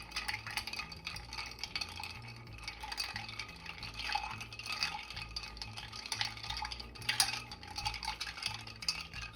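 A bar spoon stirring a Manhattan cocktail with ice in a mixing glass gives a soft, steady clinking and swirling, faint against quiet background music.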